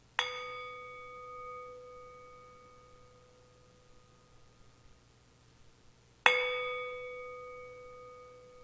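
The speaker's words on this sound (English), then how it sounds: "I'm going to hit this gong up here" A gong struck twice, each hit a sharp bright attack with a long shimmering ringing decay; the second strike lands about six seconds after the first, heard alone in a quiet room.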